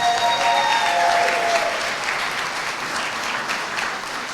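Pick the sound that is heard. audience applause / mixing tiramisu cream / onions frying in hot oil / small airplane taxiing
audience applause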